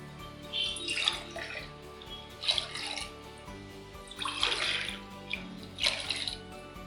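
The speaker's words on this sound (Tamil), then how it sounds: "அதுக்கு தேவையான தண்ணி ஊற்றிக்கலாம்." Water is poured from a tumbler onto soaked mattai rice in a pot, several separate splashing pours with short pauses between them, close and moderately loud.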